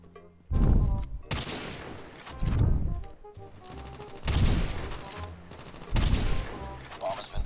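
Sniper rifle shots in COD Mobile ring out as five sharp, loud, separate blasts spaced a second or two apart, each with a short ringing tail over a low game background.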